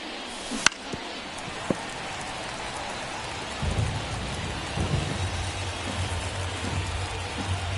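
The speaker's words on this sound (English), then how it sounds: "the field's not going to be able to hold up if the rain gets any worse than this" Rain pours steadily on a baseball field in the MLB The Show 24 video game, a dense continuous hiss with a couple of sharp cracks early on and a low rumbling swell joining partway through.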